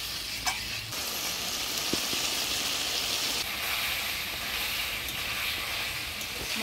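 Potatoes and eggplant sautéing with ground spice paste in a village kitchen for a hilsa fish curry, a steady broadband sizzle with faint stirring scrapes and a couple of soft clicks from the utensil.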